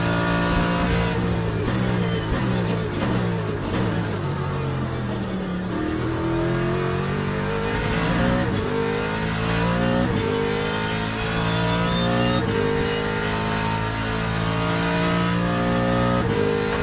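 Race car engine in the Le Mans Ultimate racing game, a loud continuous high-revving drone with rising and falling pitch through gear changes and a crackling edge, heard alone without talk.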